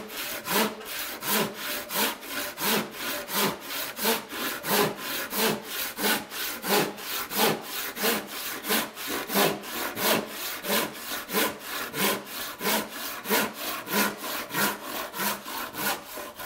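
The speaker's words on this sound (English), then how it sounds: "as I was cutting it off with the handsaw, I was allowing the handsaw to get a little dust between it and the surface of the bottom right here" A handsaw cuts through the wood transom of a boat with steady, even back-and-forth strokes, close and clear, with no talking.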